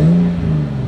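A tuned Toyota Supra Stage 3+ with raised turbo boost gives a brief, close, loud engine drone that holds steady and eases slightly.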